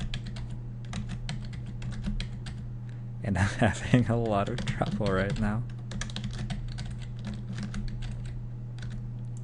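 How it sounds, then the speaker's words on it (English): Steady clicking on a computer keyboard runs throughout over a constant low hum, with someone talking briefly midway as the keys keep clattering. "I have to work out which combination of keys to press to switch my keyboard back."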